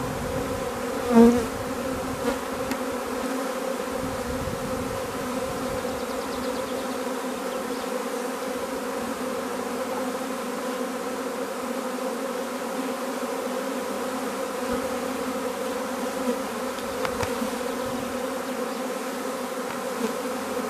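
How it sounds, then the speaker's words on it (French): A honeybee swarm drones around an open hive, a dense, steady buzz from many bees close by that holds level throughout, with a brief knock early on. "les abeilles vont pas retourner sur la branche"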